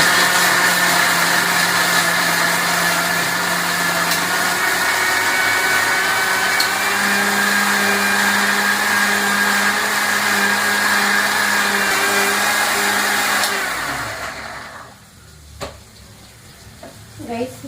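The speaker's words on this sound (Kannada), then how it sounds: "ನಾನು ಇದನ್ನು ಮಿಕ್ಸಿ ಮಾಡ್ಕೊಂಡು ಬರ್ತೀನಿ." A mixer grinder whirs loudly and steadily as it blends spinach into a smooth paste for palak paneer in a home kitchen, its pitch shifting partway through, then it stops and the room goes quieter.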